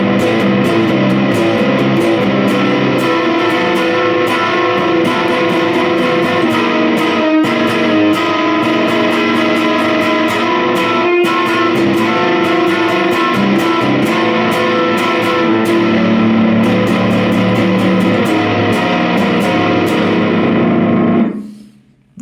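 An electric guitar played through a JHS Bender fuzz pedal set for gnarly metal tones, loud, heavily distorted chords and riffs ringing continuously with sharp pick attacks, then cut off abruptly at the end.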